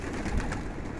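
Pigeons coo softly during the rainy season, a brief, faint call nearly buried under steady broadband wash of rain and outdoor noise.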